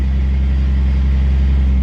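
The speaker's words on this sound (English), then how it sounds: "Clutch engaging good." A Toyota Supra Mk4 with a twin plate clutch, a T56 Magnum six-speed and a steel bell housing, giving a loud, steady, low engine rumble as the clutch engages, close and without talk.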